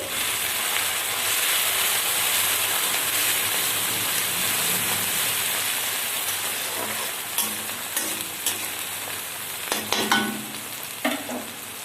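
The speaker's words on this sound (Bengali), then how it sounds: "ভালো করে আমি নেড়ে চেড়ে ভেজে নিচ্ছি।" Chopped tomatoes fry in oil with onions for ghugni, giving a loud, steady, close sizzle throughout. Stirring scrapes and clacks grow more frequent toward the end.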